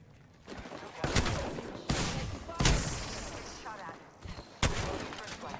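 Video game gunfire, several loud bursts of shots spaced through the clip with echoing tails, voices talking faintly beneath.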